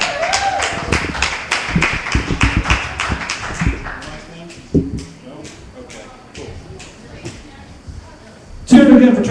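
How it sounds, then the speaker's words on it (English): A comedy club audience claps for a comedian being brought on stage. Brisk clapping at the start thins out to scattered claps, with a burst of voices near the end. "Give him a big hand."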